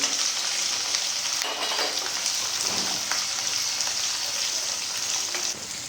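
Chopped onion and two green chillies fry in hot tempering oil in a kadai, giving a loud, continuous hiss and crackle that holds steady throughout with no talking.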